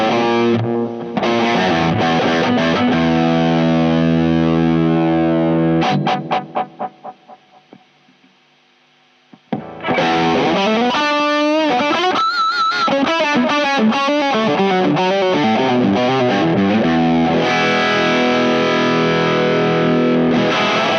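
Electric guitar through a Caline Easy Driver overdrive pedal with the mids pushed, giving a gritty, midrange-forward tone; loud overdriven chords and riffs ring out, fade into a short lull, then return with lead-style notes.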